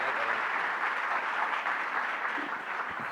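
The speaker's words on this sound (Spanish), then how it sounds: "Pueden aplaudir ahora." An audience at a business summit in Buenos Aires applauds, a dense, even wash of many hands clapping for about three seconds, with no talk over it.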